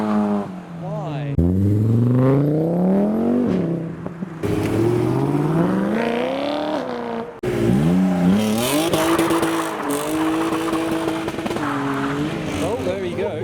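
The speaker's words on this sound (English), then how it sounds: "Someone did a skid." Cars leaving a car show rev their engines and squeal their tires in a skid, loud and close. The engine pitch rises and falls in surges, and people talk over the noise.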